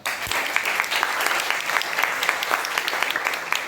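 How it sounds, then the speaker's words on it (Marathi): An audience claps loudly and steadily for the readers at a college poetry-reading event in Mumbai. The dense, sustained applause fills the whole stretch with no voices over it. "कविता वाचणाऱ्या सर्वांसाठी परत एकदा जोरात टाळ्या."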